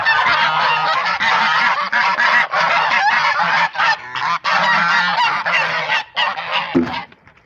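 Domestic geese honk loudly and nearly nonstop in a farmyard flock, many overlapping calls close by with only brief gaps, no talk.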